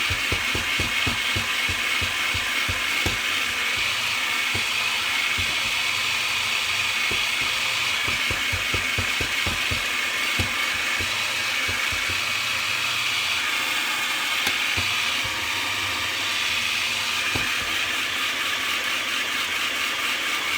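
A food processor churns a thick raw vegan burger mixture, running continuously with a loud, strained motor whir and rapid rattling, knocking pulses as the overfull bowl struggles.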